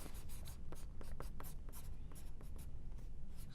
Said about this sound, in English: Yeah, I'm gonna write it even bigger.